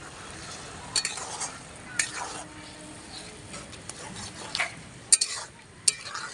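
Mashed pineapple being stirred into sticky, thickened syrup in a pan for pineapple chutney, a spoon scraping and clinking in irregular strokes with a soft simmering hiss underneath, close and moderately quiet.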